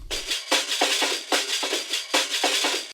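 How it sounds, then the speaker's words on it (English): A punchy breakbeat drum loop with syncopated snares and kicks cycling in a choppy, energetic pattern, alone and upfront. "And this breakbeat loop does a lot for the energy as well."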